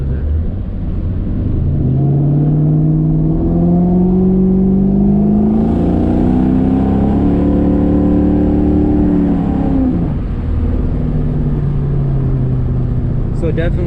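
A 2004 Mustang GT with underdrive pulleys accelerates hard through a pull. A loud, close engine note rises steadily in pitch, drops at a gear change, then climbs again, with voices talking over it.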